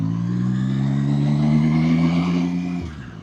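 A 2025 Zontes 703 RR motorcycle engine hums steadily while riding at low speed on a 50-limited coastal road, a loud, even drone that eases off near the end, with no talk over it.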